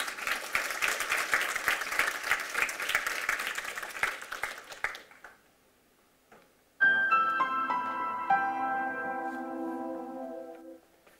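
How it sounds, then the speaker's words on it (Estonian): Loud, sustained applause from a graduation audience at a winter ceremony for nursing graduates, dense clapping for about five seconds before fading to silence, then a bright bell-like chime melody rings out. "palun tehke väga suur aplaus Haridus-Teadusministeeriumi kantslerile Kris"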